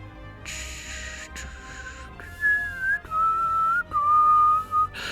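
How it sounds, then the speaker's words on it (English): Someone whistles a short tune of several sustained notes, clear and close, with brief pauses between phrases. "I don't know if whistling actually sounds good"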